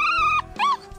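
Hovawart puppies give high whimpering yips, two close, thin cries in quick succession with a short gap between, near and fairly loud.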